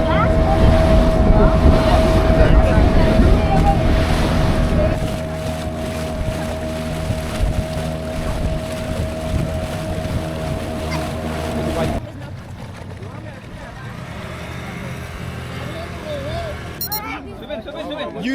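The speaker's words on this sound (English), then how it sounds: "We've got a little tour boat that we're going on." A small tour boat motors along the coast just south of Pondicherry, its engine droning steadily with a constant hum under wind buffeting and water wash, while people talk nearby.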